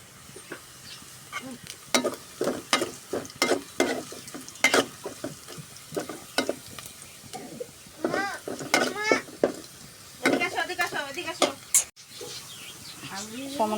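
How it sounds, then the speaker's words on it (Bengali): Dal being tempered with cumin and spices in hot oil, with intermittent clinks and scrapes of a utensil over a low sizzle, and a voice talking at points. "এখন ডাল সম্বরা দিয়ে দেবো।"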